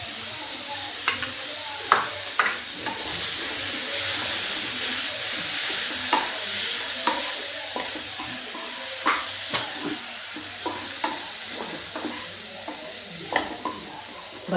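Okra simmers with curd (yogurt) in a pan over low gas for achari dahi bhindi, giving a steady close sizzle broken by repeated scraping stirs of a spoon.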